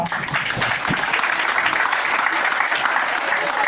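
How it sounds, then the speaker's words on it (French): Full audience applause at a high school gathering celebrating a book donation, dense and steady from start to finish, with a faint voice underneath. "Et je voudrais que vous applaudissiez cela."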